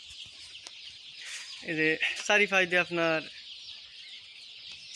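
Chicks in a poultry farm shed holding about 2,250 birds give a quick run of clucking calls mid-clip, close and clear, over a constant background hiss, with a brief spoken word near the start.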